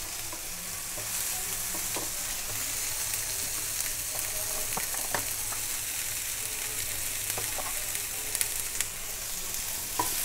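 Tomatoes and carrots frying with softened ginger, garlic and onion in a pan for homemade pasta sauce, a continuous close sizzle broken by scattered clicks and scrapes of stirring.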